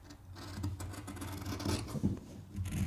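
Scissors trim fabric pattern pieces for a zipped make-up bag, giving a soft, continuous rasping crunch of blades through cloth, fairly faint and close, with small surges in intensity.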